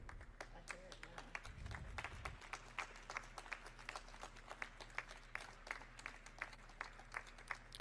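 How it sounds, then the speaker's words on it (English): A small audience at a casual mock presidential debate event gives faint, steady applause that is thin and distant, with scattered claps throughout. "Some clapping."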